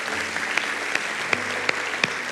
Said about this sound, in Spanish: Le damos un aplauso a nuestro Rey.